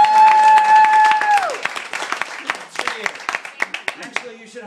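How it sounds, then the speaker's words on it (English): Party guests at a birthday celebration clap their hands, loud sharp claps building after a sustained whoop, with cheering voices mixed in close by. "Clap your hands one more time."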